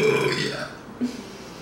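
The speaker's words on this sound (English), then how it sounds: "I almost felt like a little burp coming out" A single close burp, loud at the start and trailing off within about a second, with a faint short sound after it.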